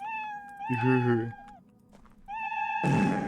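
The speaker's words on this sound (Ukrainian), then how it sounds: "І що це за кицик? О боже, невже це котик?" Cat meowing in an indie horror video game about taking out the garbage at night, several clear drawn-out meows close by, with a short low thump and a few quiet clicks between them.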